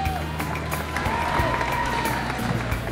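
Audience at a retirement party at the Millionaire Ha clapping and cheering, a dense, continuous wash of applause from a crowd filling the room.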